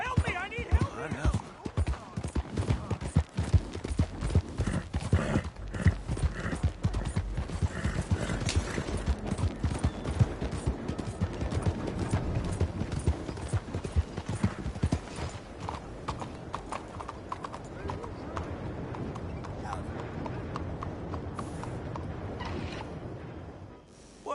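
Rapid hoofbeats of a galloping horse in the video game Red Dead Redemption 2, steady and close, with snorts and a brief whinny mixed with game-style sound effects and some voices.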